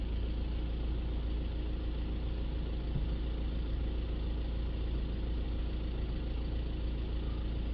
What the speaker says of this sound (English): Let's let it idle down now, see where the idle pressure is at.